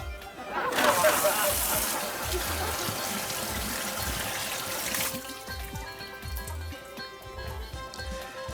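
Tap water rushes steadily over asparagus being rinsed in a kitchen sink, a loud close splash lasting about four seconds before it cuts off and leaves quieter kitchen clatter.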